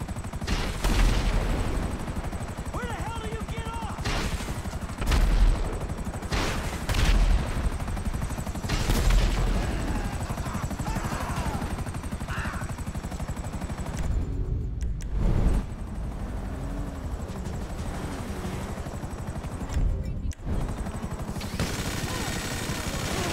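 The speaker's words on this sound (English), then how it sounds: "Hey, stop shooting up my crib, man." Gunfire in GTA 5: dense bursts of shots and booms come in repeated volleys across a long stretch, loud and close, with brief lulls between bursts.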